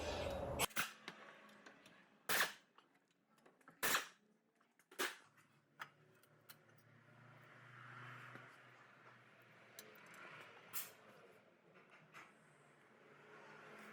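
A pneumatic impact gun with a 17mm socket on a swivel loosens brake caliper bolts on a 2011 Hyundai Elantra, giving several sharp, separate bursts in a quiet garage, followed by faint handling noises.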